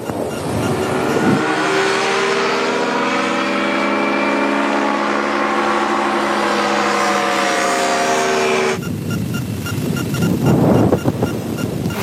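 A light aircraft comes in to land, its engine droning loud and steady with a tone that slowly shifts, then cuts off abruptly into rougher rumbling noise at touchdown.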